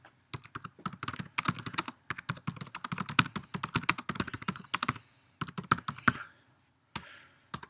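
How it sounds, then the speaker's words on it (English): Fingers type on a computer keyboard in quick, uneven bursts of close clicking keystrokes, with brief pauses between runs. No one speaks. "You hear me typing."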